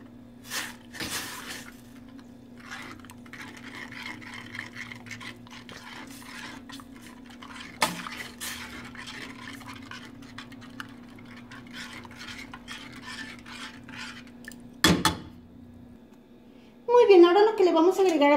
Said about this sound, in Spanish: Y vamos a mezclar.